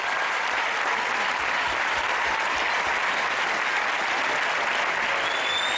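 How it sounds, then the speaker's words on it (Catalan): An audience at a school music festival applauds the young pupils, a loud, dense, continuous clapping that holds steady throughout with no voices breaking through. "Un fort aplaudiment als nens de primer, als nens de segon, tercer, quart i cinquè"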